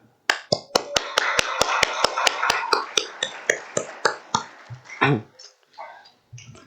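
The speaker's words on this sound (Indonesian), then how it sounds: "Mari kita berikan tepuk tangan yang meriah kepada orang-orang yang telah memberikan kepada kita ilmu-ilmunya" An audience at an Islamic boarding school santri speech assembly claps in unison, a steady run of sharp, evenly spaced claps that loosens into scattered, fading claps near the end.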